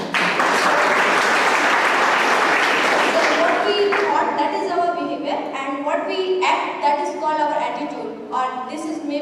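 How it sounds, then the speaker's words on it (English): Audience applause at a college lecture in Durg, India, loud dense clapping that thins out into scattered claps, with voices and talk rising over it in the second half. "Give her applause."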